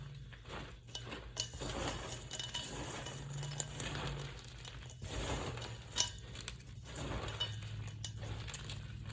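Potato chip cookie dough with chocolate chips being stirred by hand in a bowl, a steady scraping and clinking of utensil against dish with soft thuds, continuing for several seconds with no talking.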